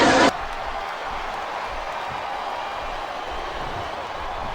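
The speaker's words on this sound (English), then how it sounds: "I love hearing the crowd come alive." A crowd roars in the WWE 2K24 wrestling video game as a steady, broad wash of arena noise after a brief bright burst at the start, with faint commentary voices underneath.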